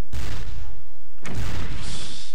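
Cannon fire in the WWII strategy game Battle Academy 2 during a winter offensive: two loud, heavy blasts with rumbling tails about a second apart, close and dominant.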